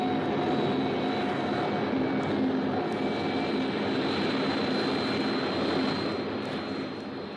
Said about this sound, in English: This is an enemy bomber.